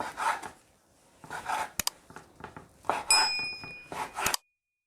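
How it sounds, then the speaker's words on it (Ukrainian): Knife cutting raw chicken breast into medium-thick pieces on a board: a few short soft slicing strokes with crisp taps and clicks between brief quiet gaps, close and clear. "Грудку нарізаємо шматками середньої товщини."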